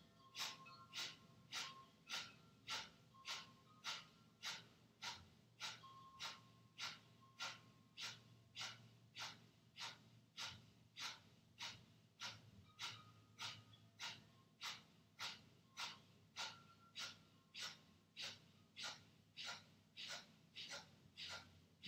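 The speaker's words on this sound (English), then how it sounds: "It's forceful exhale followed by a passive inhale" Kapalabhati yoga breathing: a long, steady series of sharp, forceful nasal exhales, roughly one to two per second, close and clear, each followed by a quiet passive inhale, with no talking.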